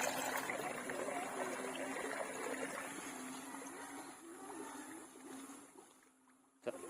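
Natural spring water flows steadily at a village spring just after a flood, a continuous close trickling and rushing wash that fills the scene, easing slightly near the end.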